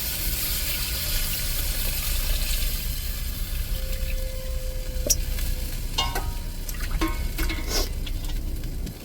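Tamarind water poured into crab curry simmering in a pan, a steady liquid pour with bubbling sizzle and stirring, a few sharp clinks of a utensil partway through.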